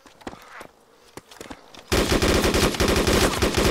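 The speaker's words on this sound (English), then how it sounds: "He shot at me first." Gunfire in the survival video game DayZ: a few sharp, scattered shots at first, then a loud, sustained burst of rapid automatic fire that runs to the end, with no one speaking.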